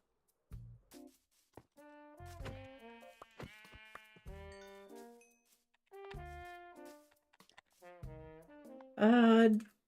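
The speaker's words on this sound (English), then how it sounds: "Oh my god, there's so many sheep." Minecraft sheep bleat repeatedly in short, separate calls spread over several seconds, clear and close, with a louder bleat near the end and no talking.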